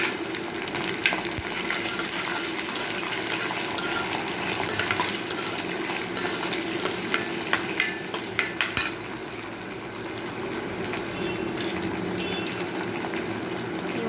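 Onion and fresh green peas frying in a pan, a steady crackling sizzle with scattered sharp clicks of stirring and utensil taps partway through.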